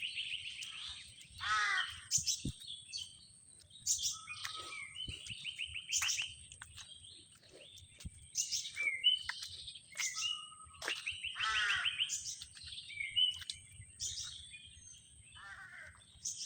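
Parrots call again and again in a jungle where they nest. Their harsh, squawking cries come in irregular bursts with short pauses, fairly faint against a quiet forest background.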